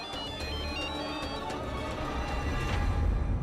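A phone rings with a repeating electronic ringtone melody over a dramatic television score, steady and moderately loud with no speech.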